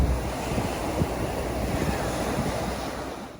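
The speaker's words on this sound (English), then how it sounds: "After around 20 minutes of drive from Adelaide, we have reached this beautiful Brighton beach." Ocean waves at Brighton beach near Adelaide, a continuous surf wash with wind buffeting the microphone, steady and moderately loud, with no voices.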